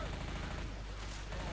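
Gunfire in the video game Left 4 Dead, a dense burst of shots filling the short moment, loud and close.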